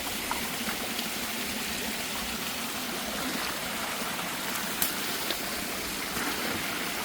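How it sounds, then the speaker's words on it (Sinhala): Water of a stream in the Walawe river rushing steadily nearby, a continuous broadband wash with no break and no voices. "ඔන්න වතුර පාරක් තියෙනවා."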